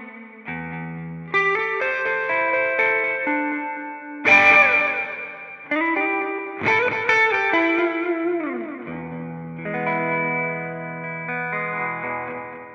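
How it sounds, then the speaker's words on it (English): An electric guitar run through a delay effect in the Amplitube iOS app via an iRig HD2 interface, with melodic lines and chords trailing echoed repeats and shimmering modulation, moderately loud with no talking. "So we've got delays, so you can get all your favorite different delay sounds."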